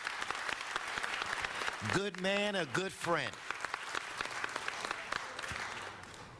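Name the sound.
council audience round of applause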